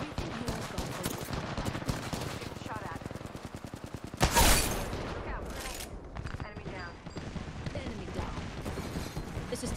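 Rapid automatic gunfire rattles out in a ranked solo match of Apex Legends, dense bursts of shots, a heavy boom midway and more scattered fire, with a player's voice talking over it.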